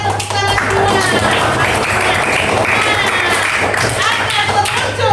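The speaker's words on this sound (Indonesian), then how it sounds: "kita tepuk tangan semua." Steady clapping from a crowd fills the whole stretch, dense and continuous, with a low hum and some voices mixed underneath.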